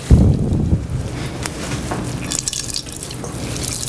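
Water drips and trickles steadily out of a squeezed gnocchi mixture in a kitchen, a close, continuous wet patter with a thicker splash at the start and no talking.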